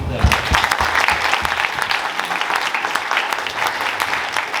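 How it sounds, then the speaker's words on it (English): Applause at a cross-country senior night banquet, a room of people clapping steadily and fairly loudly for several seconds with some voices mixed in. "And let's have an applause for them."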